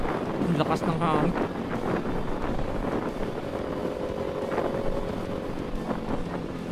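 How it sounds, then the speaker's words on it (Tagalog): Strong wind buffeting the microphone while riding a Kawasaki Z400 with handlebars cut down two inches through traffic on Sucat Road, a steady loud rush with engine hum beneath and someone talking over it. "Lakas ng hangin."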